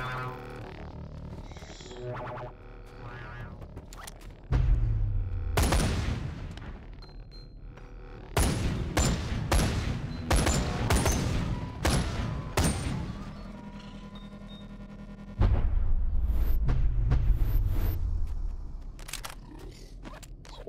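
Gunfire in the VR game Boneworks, loud bursts of rapid sharp shots arriving in several separate clusters with quieter gaps between them and no talking.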